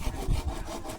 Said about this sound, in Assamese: ইয়াত বেৰ বনাবৰ কাৰণে বাঁহ কাটি আছে